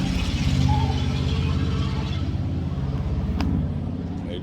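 A Ford Explorer engine idles with a steady low rumble and its fan spinning, the even engine drone continuing throughout at close range.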